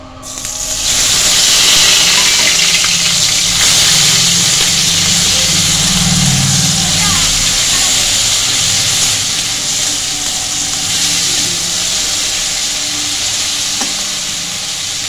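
Ground onion and garlic paste fries in oil with black cumin for a bata fish curry, a loud, steady sizzle and hiss that runs throughout, heard alone.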